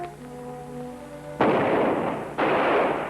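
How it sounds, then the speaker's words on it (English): Two loud, sharp gunshots fired from above ring out about a second apart, each with a long echoing tail. A faint sustained tone sits underneath before the first shot. "Those shots came from up above."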